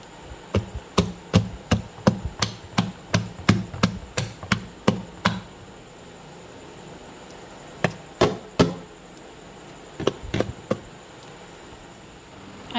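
A hand beats tal (palm fruit) fritter batter, making sharp, rhythmic slaps in a fast run of about a dozen strikes. After a pause come a few scattered slaps, close and loud, with no talking.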